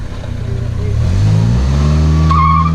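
Tires chirp and squeal as a car torque-brakes into a burnout, engine note rising and holding loud and close, a brief high screech near the end as the rear breaks loose.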